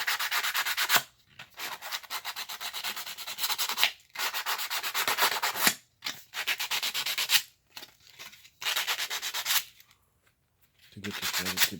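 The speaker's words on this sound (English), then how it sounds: "I cut it, so I'm gonna sand them now" Sandpaper scrubs the freshly cut edges of a homemade subwoofer voice coil former for a Kicker Comp rebuild, coming in close, harsh bursts of rapid rubbing strokes separated by short pauses, with a voice speaking briefly at the end.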